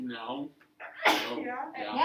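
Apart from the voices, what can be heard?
sneeze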